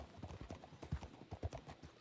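Horse hooves clip-clop at a steady gait in the RedM western role-play game, several close, loud strikes over two seconds with faint background voices.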